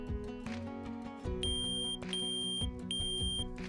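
A SimpliSafe smoke detector under test sounds loud, shrill, evenly spaced alarm beeps in a repeating pattern, close by with no talking.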